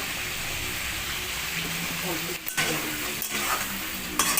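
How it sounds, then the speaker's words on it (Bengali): Prawns frying in hot oil with salt and turmeric, a steady dense sizzle close up, broken by a few brief utensil knocks and stirring movements. "গরম তেলের উপরে দিয়ে চিংড়ি মাছগুলো সব ভেজে তুলে নেব"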